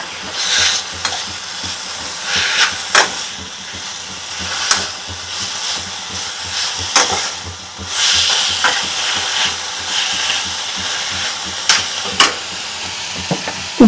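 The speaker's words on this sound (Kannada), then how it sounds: "ನಾವು ಬೇಯಿಸಿ ಇಟ್ಕೊಂಡಿದೀವಿ ಈಗ ಅದನ್ನ ಹುರ್ಕೊಳ್ತಾ ಇದೀವಿ" Boiled moringa drumsticks fry in a pan for chutney, sizzling and hissing steadily up close. A spatula scrapes and stirs at intervals, with no talking.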